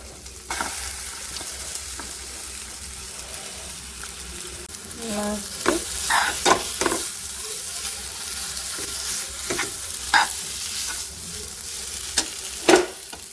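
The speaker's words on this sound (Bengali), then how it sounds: "দিয়ে একটু ভুনে দেবো ভুনা হয়ে গেলে এইবার যে পেস্টটা তৈরি করে রেখেছি পেস্টটা দিয়ে দেব" Spices with asafoetida frying in a pan while being stirred: a continuous sizzle with scattered sharp scraping and clinking strokes of the utensil against the pan, close and moderately loud, without speech.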